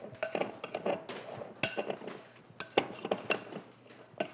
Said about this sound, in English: I've got 3 teaspoons of just cinnamon, and I'm going to stir all that together